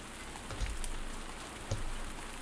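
Steady rain falls in the farming game Pumpkin Days, a constant soft hiss of drops on the ground with a couple of heavier low thumps, quiet and alone with no voices.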